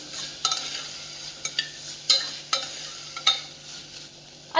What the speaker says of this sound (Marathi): यामध्ये आता मी घालतीये पाव चमचा हळद चवीनुसार लाल तिखट घालायचं हे मिक्स करून घेऊयात व्यवस्थित